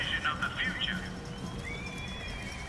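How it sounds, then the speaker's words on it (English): A mechanical horse in the BioShock Infinite video game neighs in a short, high whinny near the start, followed by a faint tonal whine over a steady background bed of game ambience. "That's a mechanical horse."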